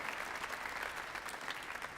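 Audience at a 2017 new student summer orientation breaks into a dense, steady round of applause, many hands clapping at close range without a break and no voices on top.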